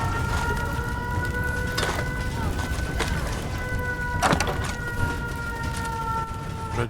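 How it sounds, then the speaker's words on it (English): An air raid siren wails in a Fallout 4 game scene, its steady rising tones held under game noise and occasional thumps, fairly loud and continuous throughout. "Little air raid siren going off."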